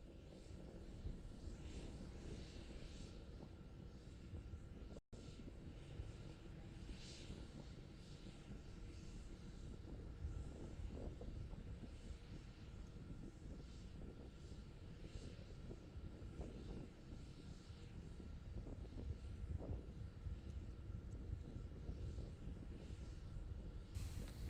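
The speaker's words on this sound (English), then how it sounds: "continuing to climb on power of 2 engines." A Starship SN11 prototype rocket climbs on two engines during a 10 km test flight, heard as a distant, steady low roar with wind noise and no talk.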